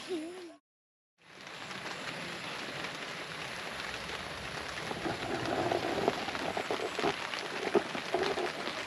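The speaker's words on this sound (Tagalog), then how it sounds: "Bumuhos yung ulan." Heavy rain patters and hisses on a campsite at a nature resort in Calauan after a short silent gap, a dense wash of drops growing slightly heavier toward the end.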